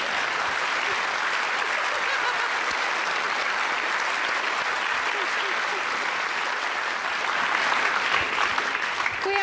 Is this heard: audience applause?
yes